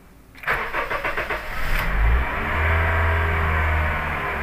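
A Honda or Suzuki car engine cranks briefly, catches and settles into a steady, loud idle, heard up close with no talking.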